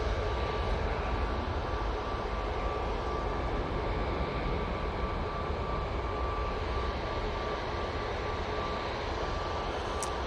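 An easyJet airliner arriving at Manchester Airport produces a steady, distant jet rumble, a broad continuous drone that holds level throughout with no talk.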